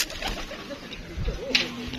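Pigeons coo softly from a rooftop loft in Gujranwala, low rounded calls rising now and then over a busy outdoor background, with a brief brighter bird chirp standing out near the end.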